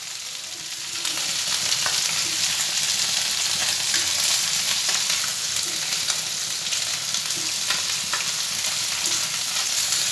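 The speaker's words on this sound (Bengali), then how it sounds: "এবার ডালটা ফোড়ন করতে বসাবো।" Dal is tempered with spices in a hot pan in a home kitchen, a steady loud sizzle and crackle of oil that runs throughout with faint stirring, and no voices.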